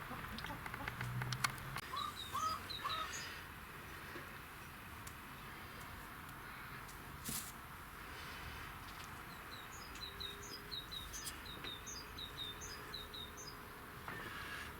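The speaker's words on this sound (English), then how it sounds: "There's some lovely birds" Small birds chirp in scattered bursts, some distance off, over a steady outdoor background hiss.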